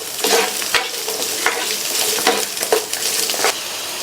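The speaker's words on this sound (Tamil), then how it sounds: "இந்த வெங்காயம் நல்லா வதங்கி வரணும்." Onions, garlic and ginger sauté in hot oil for cauliflower masala rice. A constant loud sizzle runs under repeated rhythmic scrapes of a spatula across the pan, close up and without speech.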